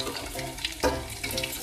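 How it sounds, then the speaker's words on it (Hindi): Two large chopped onions frying in a pan, a soft, steady sizzle with a few brief clinks and stirring scrapes, close and fairly quiet. "ये 2 बड़े प्याज कटे हुए हैं, ये प्याज को मैं डाल देंगे, और ये हल्का ब्राउन"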